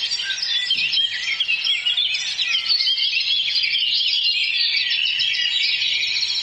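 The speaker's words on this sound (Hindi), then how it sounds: "बहुत सुबह से ही इनकी चहचहाहट शुरू हो जाती है।" Birds chirp densely in the early morning, with many bright, overlapping tweets and calls forming a continuous chorus at moderate volume and no voices.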